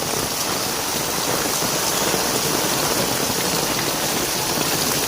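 Very heavy monsoon rain pours down in North Gujarat, a dense, unbroken roar of falling water hitting surfaces, loud and constant throughout with no voices.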